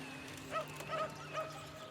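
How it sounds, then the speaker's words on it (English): Rescue dogs in the city-building game Cities: Skylines give three short, faint yipping barks in quick succession over a low steady game hum. "They have little dogs that get out and look for survivors."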